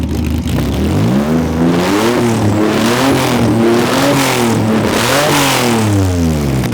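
A Volkswagen engine in a garage revs up and down repeatedly as the throttle opens and closes, loud and close, its pitch climbing and falling in waves.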